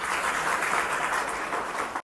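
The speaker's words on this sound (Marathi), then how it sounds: "एकदा सर्वांसाठी टाळ्या वाजवा तुम्ही." An audience breaks into dense, continuous applause, many hands clapping together at an even level for about two seconds before it cuts off.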